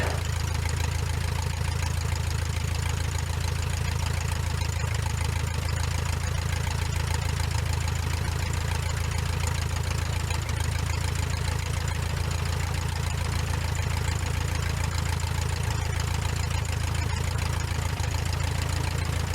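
A Luscombe light aircraft's piston engine idles on the ground before a run-up, a steady, loud, low droning rumble that holds unbroken throughout with no talk.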